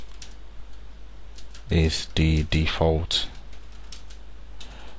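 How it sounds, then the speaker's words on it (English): Soft clicks of typing on a computer keyboard at a desk, faint taps scattered through the clip beneath someone talking in the middle, with quieter tapping before and after his speech. "So now you see we can start typing."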